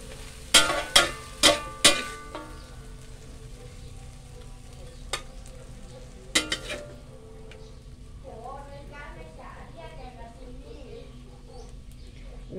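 Glass noodles stir-fried with spring onions in a pan, a few sharp scraping clatters near the start and again midway, followed by a soft, low sizzle with faint chirpy background sounds.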